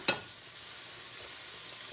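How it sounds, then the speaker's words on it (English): Butter boils and sizzles hard in a skillet, a sharp scrape or clink at the start followed by a steady, faint crackling hiss. "I need to turn my butter down because it's boiling like crazy"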